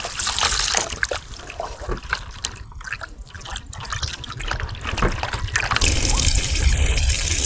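Boneless chicken cut into small pieces is rinsed by hand in water, with steady splashing and trickling close up, while a person talks over it.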